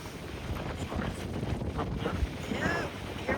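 Wind rushing across the open bow of a cruise ship sailing into Rio, a steady broadband roar with microphone buffeting and faint water wash beneath, continuous and close.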